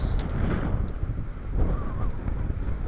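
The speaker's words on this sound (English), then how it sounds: "I hope that wind doesn't ruin the mic" Wind buffets the microphone outdoors on a walk, giving a close, continuous low rumble that swells and eases for the whole stretch.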